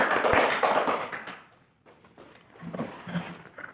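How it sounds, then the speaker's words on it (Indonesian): A classroom gives applause for the first presentation group: a burst of clapping that fades after about a second and a half, followed by softer scattered claps. "Oke, beri tepuk tangan untuk kelompok 1."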